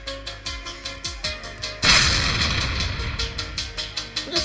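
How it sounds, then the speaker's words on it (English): A cannon fires once in the Roblox game Build a Boat for Treasure, a sudden loud boom that breaks out of a rhythmic series of soft thumps and then trails off into a noisy rumbling wash. "I don't want to hear that shoot sound. Shoot the cannon at it then."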